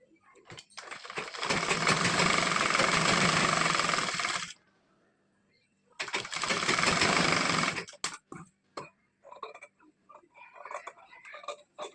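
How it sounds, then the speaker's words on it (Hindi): Electric sewing machine stitching a blouse lining, running in two loud continuous bursts of about three seconds and two seconds separated by a pause, followed by light clicks and handling noises. "इसके बाद हम स्टिचिंग करेंगे।"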